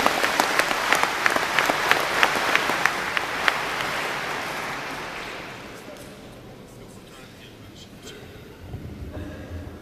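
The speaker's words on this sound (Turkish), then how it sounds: "Alkışlarımızla davet edelim." Audience at a conference hall applauding to welcome a speaker, steady clapping for about five seconds that fades out, leaving quiet room noise and a few faint sounds.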